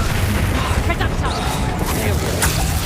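A booming Reducto-style spell blast from Hogwarts Legacy during a goblin mine fight, a loud crashing burst amid continuous combat noise, with a voice shouting over it.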